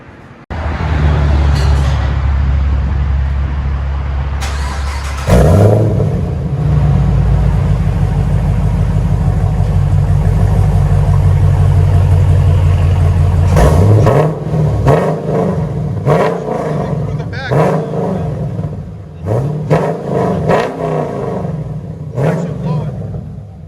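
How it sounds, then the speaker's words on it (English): A 2013 Chevy Camaro SS V8 fitted with a stainless steel true dual exhaust and straight pipes. It idles loud and deep, then revs hard in repeated bursts that rise and fall, with people talking over the rumble. "It's a stainless steel system. So we'll let you guys hear it, see how you guys like it."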